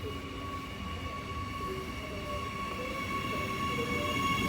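Steady low rumble and rattle of an Adelaide Metro train carriage in motion between Dry Creek and Adelaide, with a sustained electric whine overhead and no voices.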